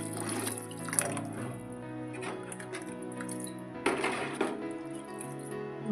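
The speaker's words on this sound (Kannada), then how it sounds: "ನಿಮ್ಗೆ ಎಷ್ಟು ಬೇಕಲ್ಲ ಗಟ್ಟಿಗೆ ಸಾಂಬಾರು ಅಷ್ಟು ನೀರು ಹಾಕ್ಕೊಳ್ಳಿ." Water splashes and patters steadily as it is poured into a pot of village-style vegetable sambar, with louder gushes near the start and again around the middle.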